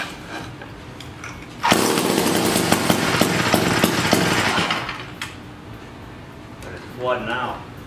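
A 1956 Eclipse Wasp chainsaw engine bursts into a loud, raspy two-stroke roar for about three seconds, sputters down and dies, leaving quiet followed by a brief voice.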